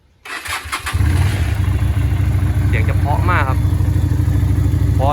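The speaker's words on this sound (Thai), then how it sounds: "เดี๋ยวลองสตาร์ทฟังเสียงเครื่องกันเลยนะครับ" Lifan LF250 V16 two-cylinder 250cc motorcycle engine starting: a brief cranking stutter, then the engine catches and settles into a steady, close idle rumble, with short bits of faint background sound over it.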